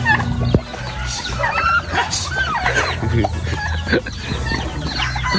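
A loud, busy chorus of mixed poultry of various breeds: turkeys gobbling, chickens clucking and a rooster crowing, overlapping continuously throughout.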